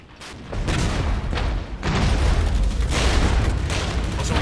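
Intense gunfire and artillery from a Cold War real-time strategy battle in Regiments, a dense continuous roar of overlapping booms and shots that swells loud and stays heavy throughout.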